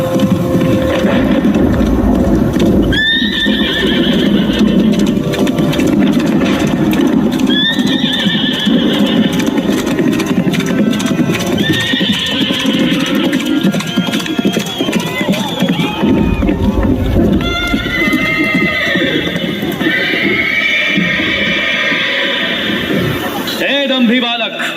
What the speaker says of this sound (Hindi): अश्वमेघ यज्ञ में छोड़ा उनका घोड़ा इधर ही चला आया